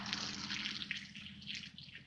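Water gushes out of an old well pipe in a steady splashing rush, close and continuous for a couple of seconds.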